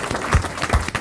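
Audience clapping at a national bravery awards ceremony, a brief burst of applause with a few distinct heavier claps standing out, loud and close.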